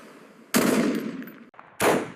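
A German MG-42 machine gun fires in two loud, close bursts, the first sustained for about a second and the second shorter, separated by a brief pause.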